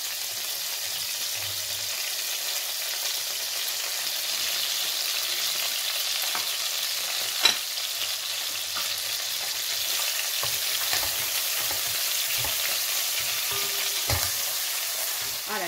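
Chicken and young and regular garlic fry in a pan for a brothy rice dish, giving a steady close sizzle with occasional clinks of stirring and no talking.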